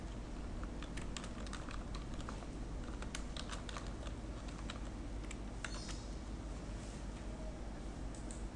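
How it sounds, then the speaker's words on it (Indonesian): Fingers type on a computer keyboard in a quiet room, a faint but continuous patter of quick, irregular key clicks. "Kemudian ketikkan isi teksnya."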